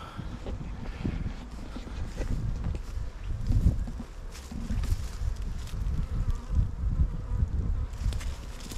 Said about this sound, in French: Donc là on voit l'essaim,